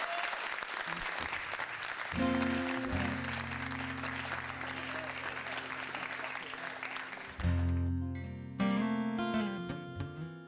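Loud recorded applause clap track plays from a live-stream setup, steady crowd clapping for several seconds, briefly cutting out and then restarting with tonal music fragments layered in.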